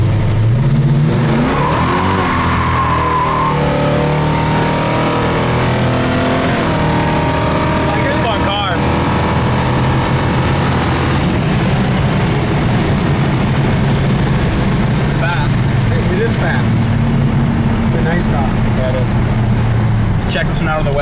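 A 1970 Plymouth Satellite Roadrunner tribute hot rod roars loudly while driving, its V8 engine climbing in pitch through the gears with audible shifts, then settling into a steady rumbling cruise, heard up close from inside the car.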